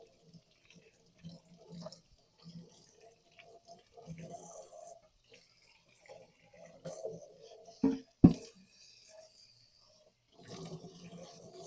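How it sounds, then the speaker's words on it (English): Tap water splashes intermittently as a small part from a GODSPEEDS juicer is rinsed clean at a sink, with brief bursts of running water, a couple of sharp knocks and quiet gaps. "We can give it a good rinse."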